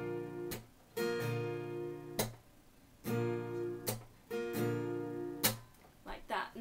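Acoustic guitar strums with palm mutes: sharp downstrokes alternate with muted, choked chords in a steady pattern, played close and clear with no talking.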